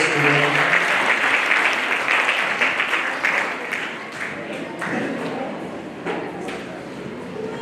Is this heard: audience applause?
yes